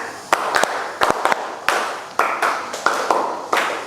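Hand claps from a classroom ice-breaking concentration game, with a steady string of sharp, close claps, some in quick pairs, and no speech.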